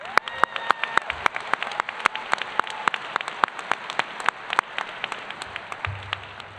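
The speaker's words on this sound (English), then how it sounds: "I think we'll give them one more round of applause." A graduation audience at a high school ceremony bursts into steady, sustained applause, dense clapping filling the whole stretch with sharp individual claps standing out near the front.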